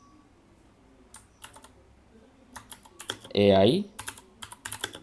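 Computer keyboard typing in clustered bursts of soft, close keystrokes, with a person speaking briefly midway through the tapping.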